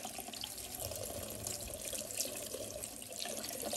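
Lukewarm tap water runs steadily over an Astrophytum asterias Superkabuto cactus as it is rinsed to wash off mealybugs, a close, continuous splashing hiss with no voices.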